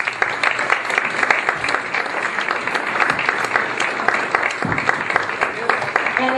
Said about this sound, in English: please give a hearty round of applause as we greet our talented artistic director and conductor